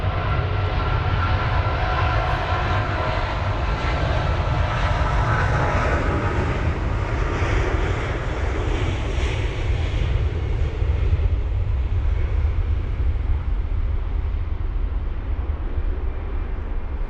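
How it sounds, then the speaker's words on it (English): A Boeing 777-200ER airliner on the runway at London Heathrow gives a steady, loud, broadband jet-engine roar that holds at an even level for the whole stretch, with no voices. "Got the 777 on the runway, the 200ER as well."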